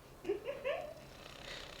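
A cat purrs softly in a quiet room, a faint low rumble with a few rising chirpy vocal sounds near the start.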